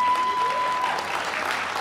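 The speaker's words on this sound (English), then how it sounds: "Another round of applause for Hannah Brandon," Brief audience applause for performer Hannah Brandon, a short, close wash of clapping from a crowd, with a steady tone sounding briefly at the start.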